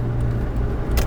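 A Mazda Miata fitted with a swapped Honda Odyssey engine pulls hard under throttle on a backroad, a brief loud, steady engine drone heard from inside the car.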